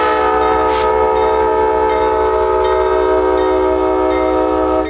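An Amtrak passenger train in Tampa adds throttle and pulls away. The horn sounds loud and close, steady and held, over the rumbling locomotive engine.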